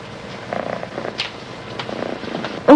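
A cat purrs softly and steadily indoors, a low continuous rumble close by, with a sharper louder noise breaking in right at the end.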